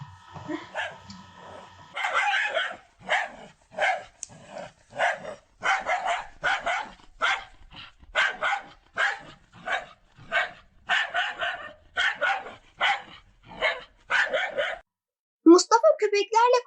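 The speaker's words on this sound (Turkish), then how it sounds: "bir anda köpekler Mustafa'yı kovalamaya başladılar" Dogs bark in quick repeated bursts in a school radio drama, several barks per second for most of the clip, fairly close, with a higher yelp near the end.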